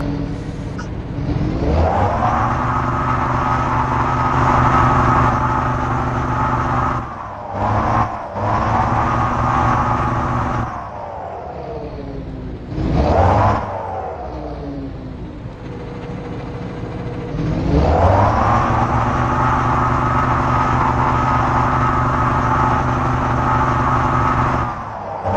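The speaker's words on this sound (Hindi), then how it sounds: "अब आप ट्रक की आराम से साउंड सुनोगे भाई कितना बढ़िया तरीके का जो अपना साउंड है वो ऐड हुआ है।" Engine of a truck in the Truckers of Europe 3 mobile game, a loud steady drone that revs, drops off briefly several times and picks back up, with no talking.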